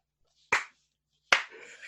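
Two separate hand claps, sharp and close, spaced about a second apart in an otherwise silent room, the second trailing into faint rustling.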